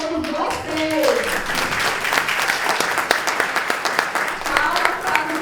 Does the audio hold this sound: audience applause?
yes